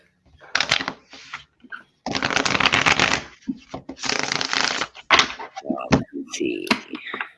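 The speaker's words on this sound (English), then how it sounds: "Went through and shuffled all my cards up." Loud, close riffle shuffles of a deck of cards: several long whirring bursts separated by taps and cards being squared up.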